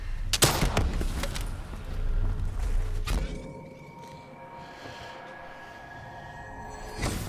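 MG42 machine gun in Black Ops III, a loud burst of rapid gunfire with sharp cracks over the first three seconds, then a quieter stretch of tonal hum and faint clatter, and one more thump near the end.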